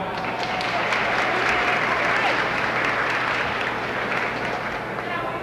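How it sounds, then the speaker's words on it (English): A theater crowd at a 75th anniversary party applauds the Royal Oak Music Theater, thick, sustained clapping at an even level throughout with faint crowd murmur mixed in. "we owe a round of applause to the Royal Oak Music Theater"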